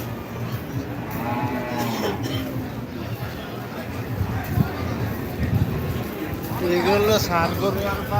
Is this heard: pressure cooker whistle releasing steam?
no